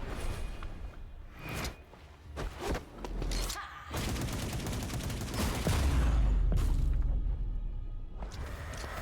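Rapid gunfire and booming blasts from combat in the video game Ruined King: A League of Legends Story, dense bursts of shots layered with heavy low thumps and whooshes, loud and continuous throughout.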